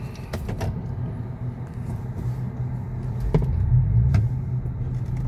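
A 2024 Cadillac Lyriq electric car accelerates, heard from inside as a smooth, steady low rumble of road and cabin noise with no engine roar, holding even throughout.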